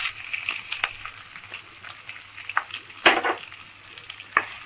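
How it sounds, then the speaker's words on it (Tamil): Onions frying in a pan for lemon idli, a steady soft sizzle with several sharper crackles and stirring clicks, heard alone without talk. "ஆனியன் போட்டு வதக்கலாம்."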